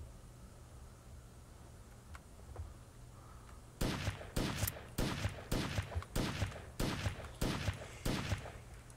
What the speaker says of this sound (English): Someone threw a grenade at me.